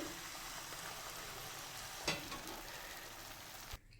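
Slices of bread coated in beaten egg fry in a pan over medium heat, giving a steady close sizzle with a brief sharper crackle partway through.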